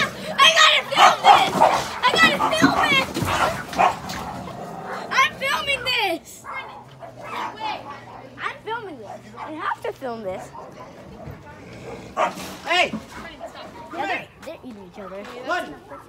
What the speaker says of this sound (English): those are just dogs